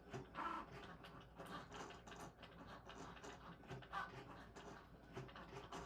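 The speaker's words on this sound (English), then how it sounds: "It's really fun to watch the Venture draw because it's super duper duper fast." A Cricut Venture cutting machine drawing a penguin card design, giving a quick busy run of whirring motor and mechanical gliding with small clicks and ticks, steady and close throughout.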